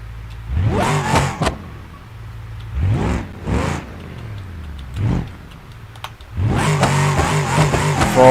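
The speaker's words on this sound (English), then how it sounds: "trying to control my drift car so it doesn't go into the ocean" A drift car's engine revs hard at full speed in repeated loud surges, roaring in bursts with short drops between them, then building into a sustained high-revving roar, with no voices.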